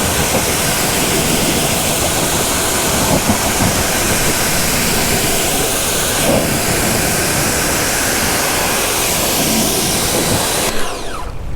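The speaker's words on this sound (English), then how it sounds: "So we're gonna hose this off again." A hose spraying water onto a car's tires after a car wash, a loud, steady rushing hiss running without a break for about eleven seconds and cutting off at the very end.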